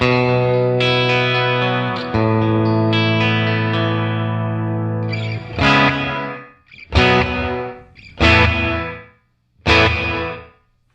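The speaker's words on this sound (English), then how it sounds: "Then we go to the gated reverb." Guitar chords ring through a Red Panda Context pedal's gated reverb, with sustained notes at first, then four short loud stabs that cut off abruptly into silence.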